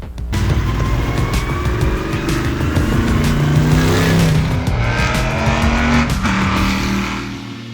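Marcos LM600 Evo race car engine roaring close by, loud and sustained, with rising revs and a throaty, rumbling note that holds steady before easing off at the end.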